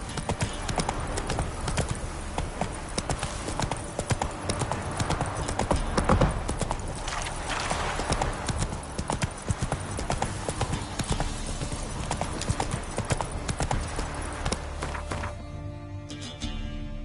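Rapid, steady hoofbeats of the horse Roach galloping in The Witcher 3, a continuous loud clip-clop rhythm with game ambience and occasional voice underneath, thinning out near the end.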